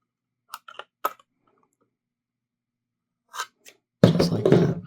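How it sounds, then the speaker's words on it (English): Faint, scattered clicks and light scraping as a LEGO part is worked into place with scissors, ending in a louder, rough crunching rustle. "use the scissors, kind of wiggle it into place"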